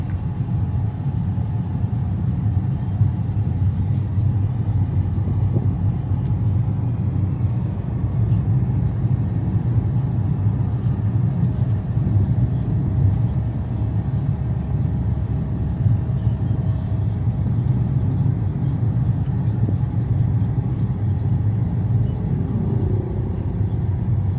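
A car driving forward and speeding up during a driving lesson, a steady low engine rumble holding throughout at close range with no talk over it.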